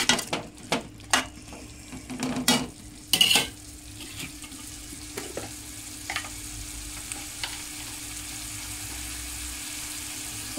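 Chopped tomatoes cooking down in a pan with a soft frying sizzle, broken early on by several sharp clinks and scrapes of a spoon stirring, then settling into a quieter steady simmer.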